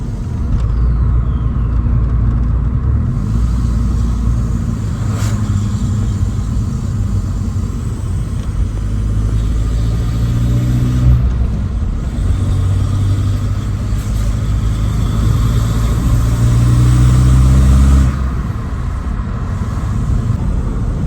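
A 1.9 TDI diesel car with a 3-inch downpipe and no exhaust accelerating hard at full boost, heard from inside as a loud steady low engine drone and rumble that rises and drops across shifts.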